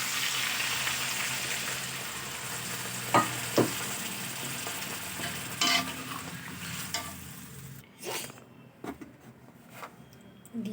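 Lentil dumplings (bori), potato and eggplant sizzle in hot oil in a pan while being stirred, with a steady frying hiss and repeated close scrapes and knocks, turning to sharper clatters near the end.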